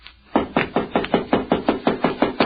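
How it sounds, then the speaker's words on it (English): Twelve sharp knocks rap on a door in a radio drama, following one another at an even, brisk pace, loud and close with no voices over them. "Now, I'll knock."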